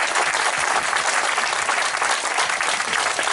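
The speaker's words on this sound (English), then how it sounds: "let's give her a big round of applause" A crowd claps steadily and loudly, a dense wash of applause that holds at an even level throughout.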